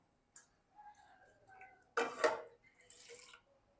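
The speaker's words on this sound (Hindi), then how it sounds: "इस पे मैं इतना जो गुड़ का पानी है वो ऐड कर रहा हूँ।" Jaggery water poured into milk in a pot for karak tea: a soft splash and trickle bursting up briefly, with faint clinks and drips before and after in a quiet kitchen.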